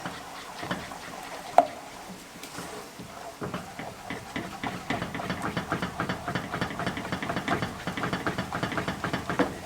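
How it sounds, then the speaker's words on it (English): A spoon vigorously stirring thickening old-fashioned peanut butter fudge in a pot, with a quick rhythmic scraping patter that starts after a few quiet seconds and then continues steadily and close. "And you're going to stir this vigorously without trying to get it everywhere until it thickens up."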